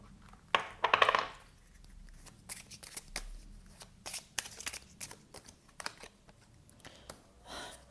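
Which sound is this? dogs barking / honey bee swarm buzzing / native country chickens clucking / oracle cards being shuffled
oracle cards being shuffled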